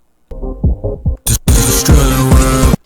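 A chopped vocal sample stutters in short repeated bursts in a krushclub/hyperpop style, first sparse and quieter, then joined by heavy thumping beats and dense full-band music.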